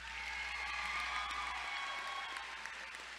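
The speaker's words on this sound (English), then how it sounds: "How about one more round of applause for Kayla?" Steady, even applause fills a hall at a summer graduation ceremony, a crowd clapping continuously at moderate distance for a few seconds without cheering or talk.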